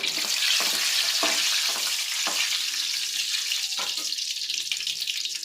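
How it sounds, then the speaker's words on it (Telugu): Oil sizzling steadily in a pan as small pieces of dried red chili fry for a tempering, a continuous close hiss broken by a few sharper crackles and bursts, with no talk. "దీంట్లో నూనె పోసాను తిరగమాత వేయటానికి"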